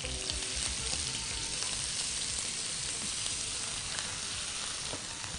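Chopped onions fry with cumin in a tempering, giving a constant dense sizzle and crackle, fairly close and uninterrupted, with no voices.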